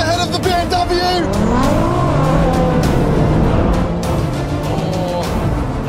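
A BMW M4 Competition xDrive and a Nissan GTR launch hard in a drag race, engines roaring and rising in pitch through the gears, loud and close, with excited voices talking over the engines.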